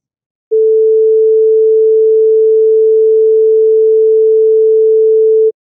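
A steady sine test tone, lowered by 3 dB from full level in Cubase, holds one pure pitch for about five seconds at an even, fairly loud level, starting and stopping cleanly with nothing else present.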